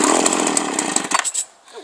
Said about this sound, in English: Yeah, we have like 10 chainsaws in there.